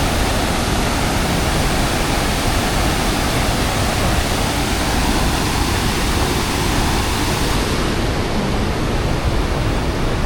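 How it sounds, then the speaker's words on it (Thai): A steady, powerful roar of rushing water from a tiered waterfall in Laos fills the scene, broad and unbroken like a large cascade close by, with no other sounds standing out. "น้ำตกเป็นขั้นเป็นขั้นเป็นขั้นเลยนะ"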